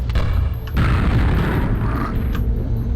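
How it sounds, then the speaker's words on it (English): A grenade launcher round exploding in a video game, producing a loud, low boom with a sharp onset that rumbles heavily for a couple of seconds before trailing off. "Don't worry, I got a grenade launcher."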